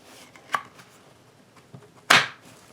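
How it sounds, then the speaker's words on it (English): Plastic clamps snap onto a Q-snap cross-stitch frame in two crisp clicks. The first is lighter and the second a louder sharp crack a moment later, with soft handling noises between. "Time to snap on some clamps."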